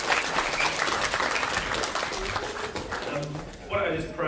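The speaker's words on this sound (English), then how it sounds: "Should we have a round of applause?" Applause from a church congregation at a Sunday service, a dense, steady patter of many hands close by that thins toward the end as a voice starts speaking over it.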